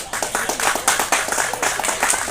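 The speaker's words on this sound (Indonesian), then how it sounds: "Kita ucapkan aplaus kepada mereka semuanya" A crowd of people at a national Santri Day assembly claps together in brisk, uneven applause, a bright, dense patter of hands throughout.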